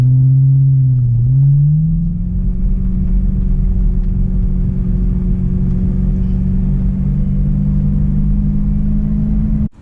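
A BMW E92 M3 engine drones loudly and steadily while driving, its pitch dipping briefly near the start and then holding a constant rumbling tone, with no voices over it.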